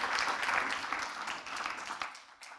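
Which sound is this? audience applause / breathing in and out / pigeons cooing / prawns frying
audience applause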